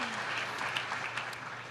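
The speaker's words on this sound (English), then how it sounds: "sorry, don't mean to cut off the applause" Faint applause from an audience at an event with Barack Obama and Mark Zuckerberg, a soft, steady patter of many hands heard from a distance that fades slightly as it goes on.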